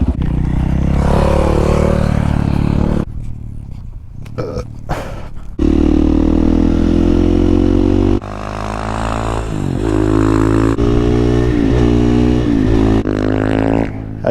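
KTM supermoto motorcycle, a 500 EXC-F or 690 SMC-R, revving loud and close with a steady engine drone, dropping out briefly around a gear change and picking back up, with clunky, rough shifting.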